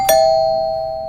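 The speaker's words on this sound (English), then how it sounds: "Following a period of nothing, the doorbell rings." A single doorbell ring used as a radio drama sound effect, one loud clear chime that rings on and slowly fades, alone without speech.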